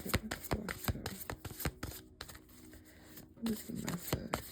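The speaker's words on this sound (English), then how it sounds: "Let's shuffle these for a minute." Cards are shuffled close by in quick riffling bursts and crisp snaps, with brief pauses between runs.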